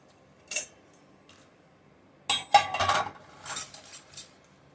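Metal mess kit pieces, a small saucepan, lid, frying pan and measuring cup, clink and clatter in two bursts, a short knock followed by a longer run of close metallic rattling and taps.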